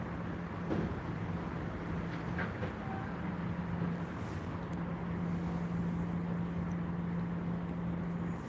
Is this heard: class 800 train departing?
yes